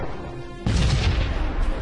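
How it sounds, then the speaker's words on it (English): Laser volley from the Sunrider starship in a space strategy game: a sudden loud broadband burst erupts partway in and sustains as a rumbling, crackling blast to the end, following a quieter tonal hum. "Let's finish him off with the lasers."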